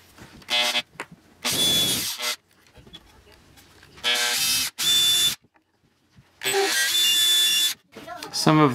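Power drill boring mounting holes for a Gen4 electronics board on a machine, three loud sustained bursts of whining motor with quiet gaps between, near, with a person talking briefly between runs.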